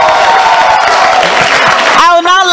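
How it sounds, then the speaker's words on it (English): Audience applause for a second-place prize winner at a Ghanaian awards event, a dense, steady wash of clapping for about two seconds that cuts to a brief tonal sound at the end. "A round of applause for Abraham."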